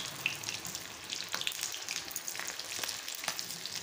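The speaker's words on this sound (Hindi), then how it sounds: "गैस को हम थोड़ा मंदा कर देंगे क्योंकि हमारा तेल गर्म बहुत हो चुका है, हम सारी मुठियाँ इसमें डाल देंगे" Methi muthia dumplings shallow frying in hot oil on a lowered flame, a soft steady sizzle with scattered small pops, close and fairly quiet.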